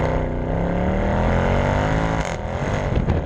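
A 490 bhp Mercedes C63 AMG coupe engine, loud and close, holding a steady throaty drone as it drives, pitch climbing gradually before a brief dip and recovery near the end.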